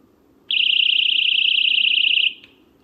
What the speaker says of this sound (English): So my special little alarm thingy does this.